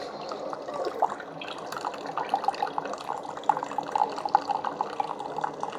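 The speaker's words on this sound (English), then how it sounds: "the Keurig starts brewing first" Keurig K-Supreme Plus Smart pod coffee maker starting to brew on the 8-ounce setting, with a steady watery gurgle and hiss and repeated small spurts and drips, moderately close.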